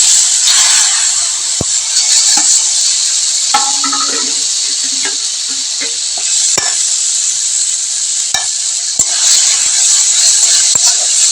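Eggplant added to a hot pan for a mashed eggplant dish: a loud steady sizzle and hiss fills the whole clip, with occasional scraping and stirring clicks over the top.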